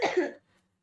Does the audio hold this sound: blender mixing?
no